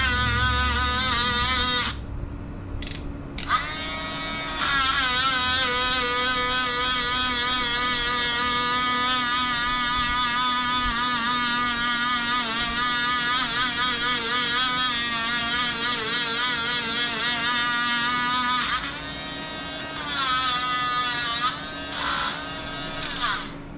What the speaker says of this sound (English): I'm going to get some good clean metal exposed with my Dremel.